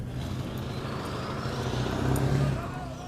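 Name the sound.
pickup truck stuck, engine running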